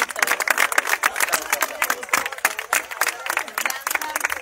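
Crowd applause in Plaza San Martín for ballet dancers after a performance at a Christmas tree lighting, dense outdoor clapping with cheers that stays steady throughout, carried over a busy open-air crowd.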